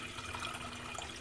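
Water pours steadily into a cooking pot, a short, faint, even splashing stream heard alone.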